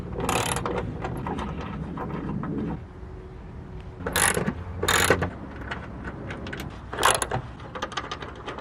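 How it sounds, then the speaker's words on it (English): Factory hex bolts come out of the inner rocker panel of a 2005-2021 Toyota Tacoma with bursts of ratcheting clicks, close and fairly loud, separated by quieter stretches of faint handling noise. "Remove the factory plugs or hex bolts."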